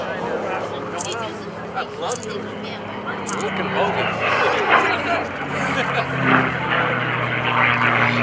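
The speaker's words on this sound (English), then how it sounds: "we're going to let you hear the sound of this engine" A P-51D Mustang piston aircraft engine roars steadily nearby at an airshow, a loud continuous drone with people talking over it.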